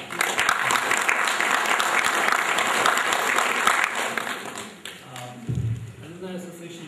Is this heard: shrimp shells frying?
no